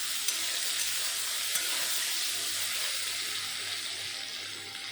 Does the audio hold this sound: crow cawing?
no